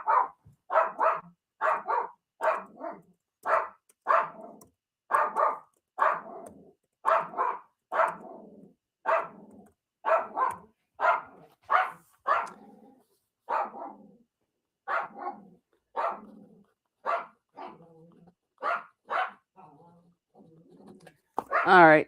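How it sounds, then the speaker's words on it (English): Several dogs bark in a long, steady run of sharp repeated yaps, close and loud, with brief gaps and a faint growl near the end, heard behind a live online sale. "Oh, my heavens, dogs."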